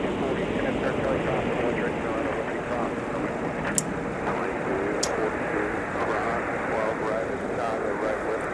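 An American Airlines jet moving at MSP airport on a winter day, a steady loud roar of engine noise filling the whole stretch with a couple of faint clicks.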